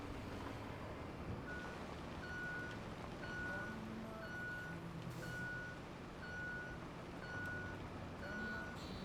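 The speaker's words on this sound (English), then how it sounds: "I like the backup beeper on this." A vehicle's backup beeper sounds in a video game while building a road across a lake. Evenly spaced electronic beeps, about one per second, repeat over a steady low engine rumble.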